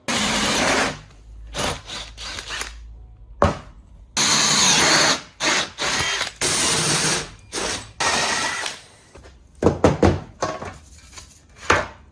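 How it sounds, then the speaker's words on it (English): A hole saw cuts holes through sacrificial wood in loud, close bursts of drilling and chewing. Short pauses of near silence separate the bursts, and the pattern is irregular and choppy. "Hole saw time. I know it's a bit sketchy, but it'll do. So gonna cut some holes."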